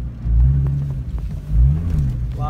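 A Nissan GT-R tuned to around 1,100 brake horsepower rumbles from inside the cabin, a deep low engine drone that swells twice in brief revs, with no talking.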